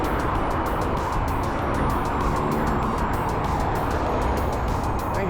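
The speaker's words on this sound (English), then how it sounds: "a lot of people are out in the cars today, quite busy the A19" Steady traffic on the busy A19 dual carriageway near Billingham, with cars swishing past one after another in a continuous roar of tyres and engines.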